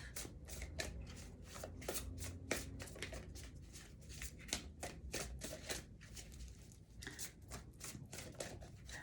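Tarot cards shuffled by hand in a steady, rapid riffle of dense crisp flicks, close and continuous with no voices.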